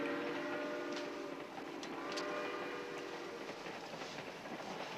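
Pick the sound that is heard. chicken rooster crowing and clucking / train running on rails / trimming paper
train running on rails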